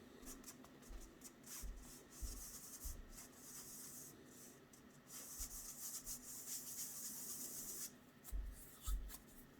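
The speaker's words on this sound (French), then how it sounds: "Et voilà, on tamise." Cornstarch is sifted for a pastry cream, producing soft, quiet rubbing and scraping of a sieve with faint irregular taps and brief brighter rasping bursts.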